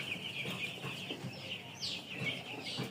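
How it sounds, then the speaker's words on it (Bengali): Chicks of a coloured broiler breed on a poultry farm chirp and cluck continuously, a dense shrill chorus from many birds close by with no talking. "কালার বাট মুরগি বাচ্চা আছে এখানে"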